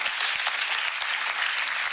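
A TV quiz show audience claps continuously, a dense, even wash of applause that stays loud for the whole moment.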